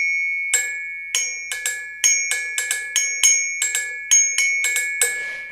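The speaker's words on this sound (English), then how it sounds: "these are go-go bells" Plastic agogo bells struck in an irregular pattern, about fifteen bright, ringing hits with quick decays, some in fast pairs, played close and alone with no talk.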